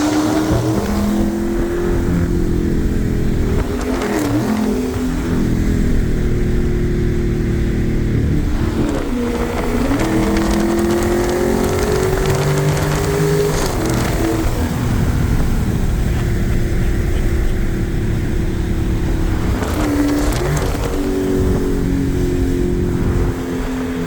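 A Ford Mustang exhaust heard from inside the cabin with the windows up, a steady loud engine drone that rises and dips with repeated gear shifts and revving while driving.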